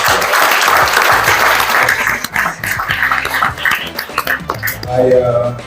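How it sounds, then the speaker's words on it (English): Graduation ceremony audience applauding the graduating students, a dense, loud wash of clapping that fills the whole stretch, with cheers and voices mixed in and a few whoops near the end. "Let's give a round of applause."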